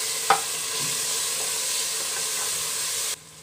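Onion and tomato fry in a pan with a steady, close hiss and sizzle, with one sharp clank early on and faint stirring scrapes before the sound cuts off abruptly.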